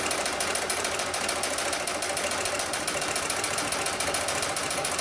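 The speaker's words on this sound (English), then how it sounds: "We have the motor set to run at around 1500 RPM, which is slow." A double-feed sewing machine for making straps and slings runs at a slow 1500 RPM, giving a steady close mechanical chatter with a fast even rhythm and no talking.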